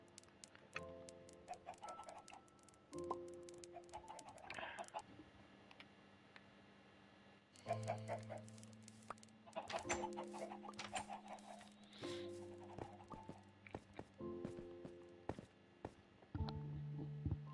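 Chickens in the Minecraft video game cluck in short bursts at a low level, with sparse clicking and ticking game sounds between the calls.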